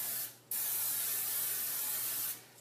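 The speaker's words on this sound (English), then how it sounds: "So I have just this olive oil spray." Olive oil cooking spray hisses onto a baking pan in two bursts, a short one followed by a long steady spray, heard up close with no talking.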